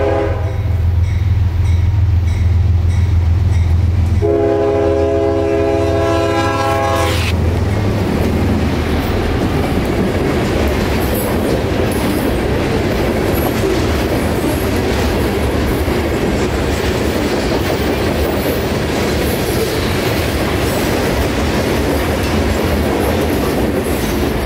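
CSX freight locomotive 5301 passes at speed near Plant City, a long horn blast sounding early over the loud, steady roar of the engine and the rumble and clatter of rail cars that fills the rest.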